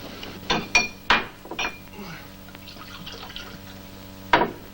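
Water is poured into a glass with a few sharp clinks of glassware and short splashy bursts, close by, then a brief voice and a final clink.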